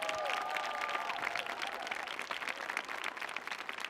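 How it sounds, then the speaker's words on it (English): Audience applause for student performers at a youth artist showcase on a theater stage, a dense burst of clapping from a sizable crowd, steady and fairly faint, with a brief tonal sound at the start. "please give all of our student performers a great round of applause"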